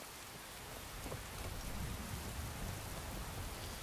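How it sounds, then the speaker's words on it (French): Steady rain hiss in Skyrim fills the scene, a dense broadband patter that swells slightly midway and holds constant, with no voices. "Ça y est, il commence à pleuvoir en plus."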